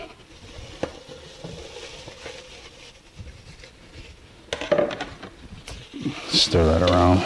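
Green peppers sizzle steadily in a frying pan for vegan Southern chili beans, with scattered scraping from stirring; a voice speaks briefly toward the end.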